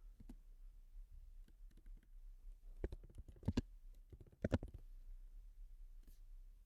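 A computer mouse clicks while a workflow is saved, giving soft, close, scattered taps with two sharper clusters near the middle and otherwise quiet surroundings.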